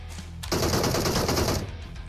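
Rapid automatic gunfire in a competitive shooter video game, a dense sustained burst of about a second after a short single shot, loud and close with no talk over it.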